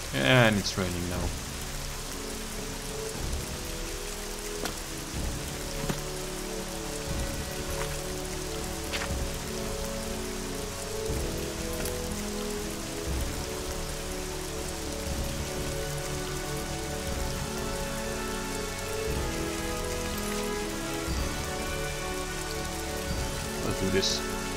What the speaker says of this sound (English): And it's raining now.